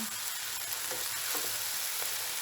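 Macaroni being stirred in a pan over a high flame, a steady sizzling fry with faint scraping stir strokes throughout, close and fairly quiet with no voices.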